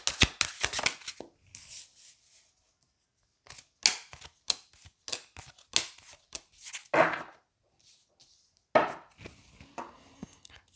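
Tarot cards being shuffled by hand in a reading session, bursts of crisp riffling and flicking clicks separated by quiet pauses, close and fairly soft, with no talk.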